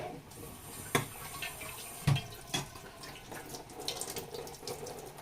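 Water runs steadily from a tap into a sink, with a few sharp clinks and knocks of objects handled nearby.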